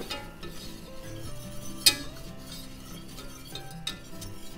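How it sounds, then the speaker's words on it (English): Butter and flour whisked together for a roux in a pan, with light steady stirring scrapes, a soft sizzle and an occasional sharp clink of the whisk against the pot. "Now I'm gonna go in with 2 ounces of flour. It's also about 1/2 cup of flour. Just whisk that together."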